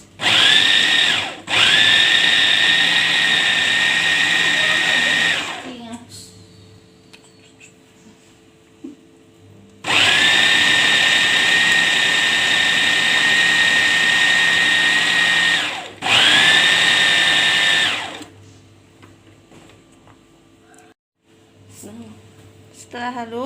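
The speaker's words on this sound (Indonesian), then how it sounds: "blender ayam hingga halus" A kitchen blender grinds raw chicken and egg into a smooth paste for nuggets, running in loud, steady whirring bursts of several seconds each, with pauses between and quiet talk during the gaps.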